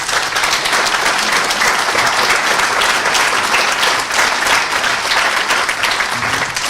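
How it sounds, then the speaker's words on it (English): An audience at a speaking event gives a sustained round of applause, dense, even clapping from many hands that holds steady throughout. "Could you give Wendy a round of applause"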